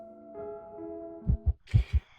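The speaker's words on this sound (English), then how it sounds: "With my heart pounding in my ears" A pounding heartbeat in a horror visual novel game, four or five heavy low thumps entering after a sustained eerie synth drone, close and prominent with a bright tone rising near the end.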